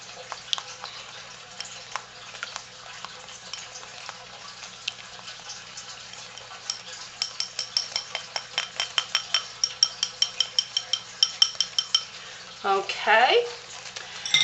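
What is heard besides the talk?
stainless steel whisk stirring soap mixture in a container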